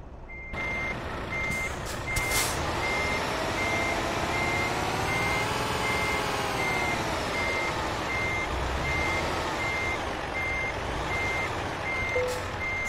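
A truck in Euro Truck Simulator 2 backs up to couple a trailer, its reversing alarm beeping steadily and evenly throughout over a low diesel engine hum, with a short hiss of air brakes near the start.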